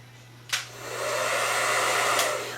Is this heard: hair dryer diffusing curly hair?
yes